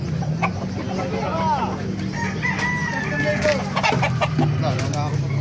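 Gamefowl roosters crow and cluck at the Bocaue tyangge market, with several overlapping calls under nearby talk and general market bustle.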